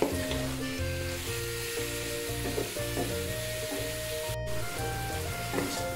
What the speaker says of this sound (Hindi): ये गोश्त जो है हमारा फ्राई हो रहा है